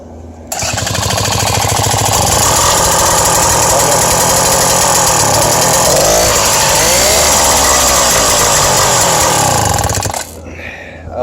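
A BT-80 electric-start motorized bicycle engine fitted with an unfinished custom muffler fires up and runs with a loud, rapid, buzzing two-stroke rattle, revving slightly midway before cutting off after about ten seconds.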